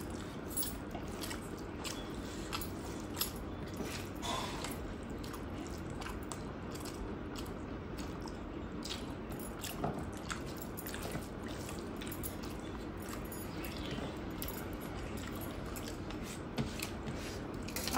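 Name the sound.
eating rice with prawn and fish curry, chewing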